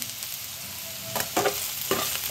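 Cumin powder frying in a pan for a fish curry, a steady sizzle broken by two or three bursts of stirring scrapes, close and fairly loud.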